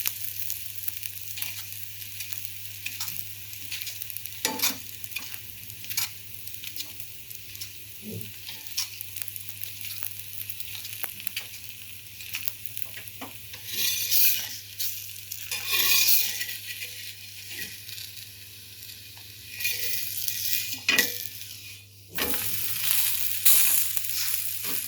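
Dhebra, a spiced Kathiawadi flatbread, sizzles steadily in oil on a pan over medium heat, with a constant frying hiss punctuated by brighter crackling bursts toward the end; no one speaks.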